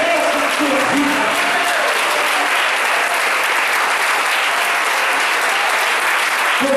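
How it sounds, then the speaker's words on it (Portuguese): A church congregation stands and applauds God during a sermon, a continuous, loud wash of clapping from many hands lasting throughout. "Se você acredita, fica de pé e aplauda a Deus Todo-Poderoso"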